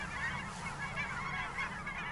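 Wild geese honk continuously in a foggy outdoor setting, a dense overlapping chorus of calls that stays steady and fairly close throughout, with no voices.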